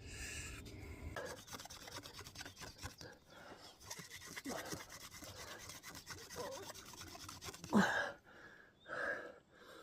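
A juniper wood stick is spun between the palms against a wooden fireboard to start a friction fire, producing a steady rubbing, rasping drone with rhythmic strokes, then heavy breathing and pauses near the end.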